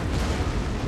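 Ballista bolts thudding in on a battle in Total War: Rome 2, a dense, loud rumble of impacts and booming bursts packed into a single second, with no talking.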